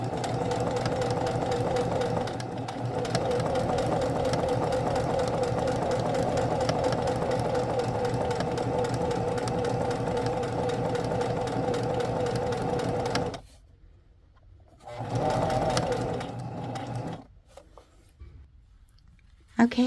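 Close, loud sewing machine stitching a tiny fabric purse, running steadily for about thirteen seconds, then stopping and restarting in two short bursts with quiet gaps between.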